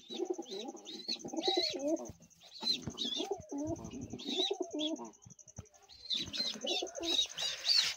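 Pigeons on a small farm coo repeatedly at close range in soft, rolling phrases, with bursts of higher chirping from young birds between the calls and faint wing movement.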